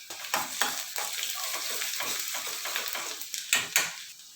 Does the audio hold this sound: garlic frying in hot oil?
yes